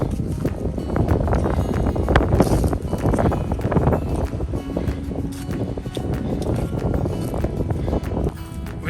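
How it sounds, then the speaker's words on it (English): Steady wind buffets the microphone in a continuous low roar on a high, snowy hiking spot, with gusty rumbling throughout and no voices. "Windy up here."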